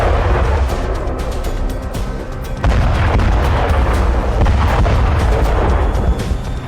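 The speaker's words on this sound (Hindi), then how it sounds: "उत्तरी गाजा इजराइल की बमबारी से दहल रहा है।" Bombardment in northern Gaza, with dense, continuous booms and rumbling blasts layered over one another, loud and sustained, plus a sharp rise in intensity partway through.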